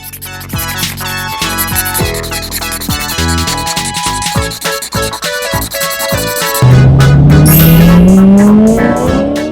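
A cartoon toy car sound effect plays loud and continuous: revving engine tones, tire squeals and a skid, ending in a rising whine, with no talking.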